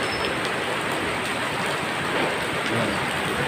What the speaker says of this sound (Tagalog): Ayan, may ulan.